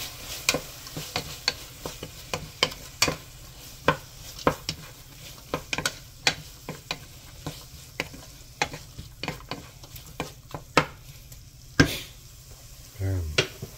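Carrots stirred in a pot for chicken macaroni sopas, with repeated short scraping and clinking strokes of a spoon against the pot over a soft sizzle, steady and close, ending in a brief louder knock.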